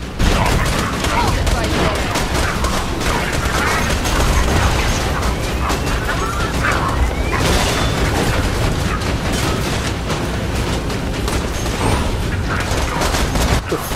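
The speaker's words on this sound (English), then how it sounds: "The fuck is my turret shooting at?" Automated turret fire in the shooter game Borderlands 2: a dense, continuous stream of gunfire and booms runs for the whole stretch, loud and busy, with game effects layered over it.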